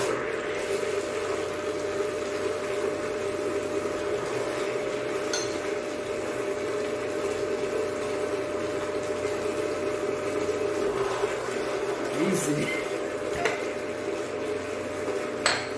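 A blender whirs steadily as it mixes coffee with honey, butter, cocoa and cinnamon, a constant motor drone with liquid churning and a few clinks, while a voice speaks briefly.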